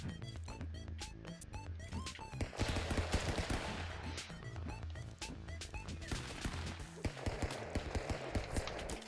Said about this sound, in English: My guy starts shooting behind me.